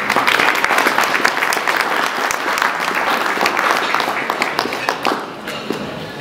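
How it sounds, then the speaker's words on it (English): Sustained applause from a conference audience in a London hall, dense and steady clapping filling the room for several seconds before thinning slightly toward the end. "So can I ask all of you in this room to give each other a big round of applause."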